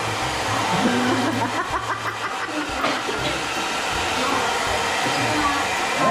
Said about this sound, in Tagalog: Tingnan mo po yung red blower.